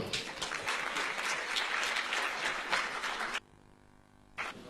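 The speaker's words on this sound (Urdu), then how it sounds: "خواتین و حضرات, آپ کی بھرپور تالیوں میں تشریف لائیں گے" Audience applause at a book launch welcoming a speaker, with a dense burst of clapping that stops abruptly, leaves a short quiet gap, then briefly resumes.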